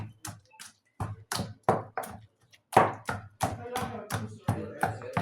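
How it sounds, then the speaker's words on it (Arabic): A mortar and pestle pound the ingredients for baba ghanoush in about a dozen sharp, close thuds. The blows come in an uneven rhythm with short pauses, alone and without talk. "علشان اهرس كل الايه المكونات كلها"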